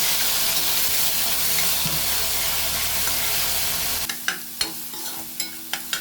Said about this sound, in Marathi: आता तिला चांगली आपण परतून घ्यायचं आहे